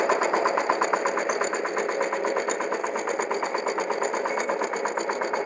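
Power tiller engine running close by, a steady rapid chugging with evenly spaced pulses and a buzzy mechanical drone, moderately loud and unbroken, no talking.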